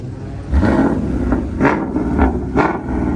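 A Ford Mustang at a Detroit car show revs its engine in a series of loud, close bursts over a steady low rumble and crowd noise.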